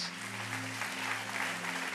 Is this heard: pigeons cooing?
no